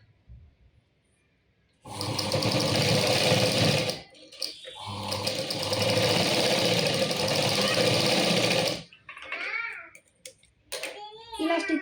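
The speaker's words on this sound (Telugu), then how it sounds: "ఈ విధంగా పెట్టుకొని మనం స్టిచ్ వేసుకోవాలి." A sewing machine stitching a lehenga latkan runs in two loud steady bursts of humming, rattling needle action separated by a short pause, with someone speaking briefly afterward.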